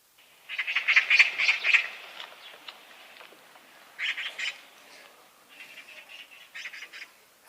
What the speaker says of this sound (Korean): 저 새 이름이 뭐라고 했지? 까치요, 까치.